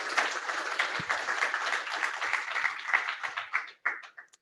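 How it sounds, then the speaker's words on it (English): Audience clapping for a presenter at a solar panel disposal talk, a sustained round of applause that thins out into scattered final claps near the end. "Can we have a round of applause for Deepika,"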